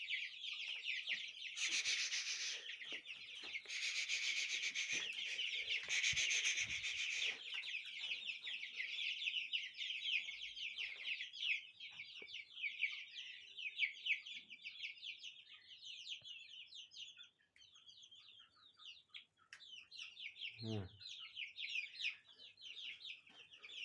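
Twenty-day-old chicks cheeping continuously in a dense high chorus, with louder bursts and rustling early on and a single lower cluck from an adult chicken near the end.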